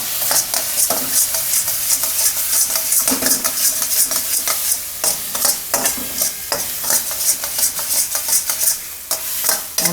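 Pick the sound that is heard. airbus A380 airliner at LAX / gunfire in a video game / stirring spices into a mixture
stirring spices into a mixture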